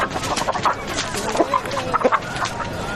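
A rooster clucks repeatedly in short close bursts, readied for a cockfight in a Telugu movie scene, with a little background noise.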